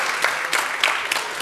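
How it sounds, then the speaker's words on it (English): Brief burst of clapping from a crowd, steady and moderately loud throughout. "give it a round of applause"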